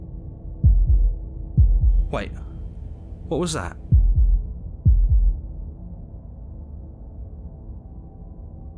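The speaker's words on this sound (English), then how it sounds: "That was the sound of a heartbeat" Two pairs of low thumping heartbeats sound close and loud, separated by pauses, with a voice speaking briefly between them over a faint steady hum.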